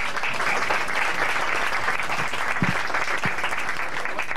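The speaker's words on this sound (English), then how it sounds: "How about a round of applause for him?" An audience applauds at a dolphin show, steady dense clapping from a crowd sustained throughout with a few sharper claps standing out near the end.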